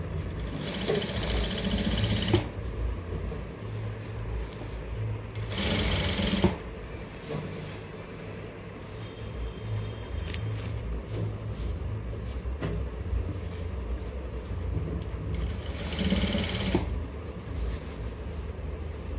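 A sewing machine stitches a skirt, running with a steady mechanical drone through the whole stretch and rising in louder bursts at the start, in the middle and near the end.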